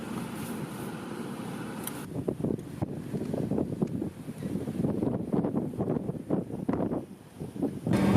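Wind buffeting a microphone on an open dirt road near Orsk, steady low rumbling gusts that swell and ease throughout, fairly loud and close with no voices.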